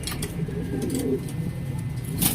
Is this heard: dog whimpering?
no